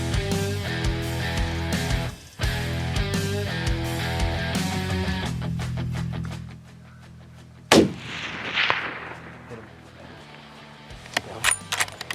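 A single sharp rifle shot rings out at a mule deer buck during a Wyoming canyon hunt, a loud crack that cuts through music, followed by quieter rustling and faint voices.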